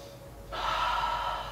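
A single breath during a restorative yin yoga practice, a soft airy inhale that starts about halfway through and continues steadily, close and quiet, with no talking.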